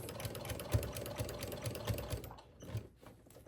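A sewing machine stitches a strap on a giant tote made from dish drying mats, running in short rhythmic bursts with brief pauses between stitch runs, close and fairly quiet.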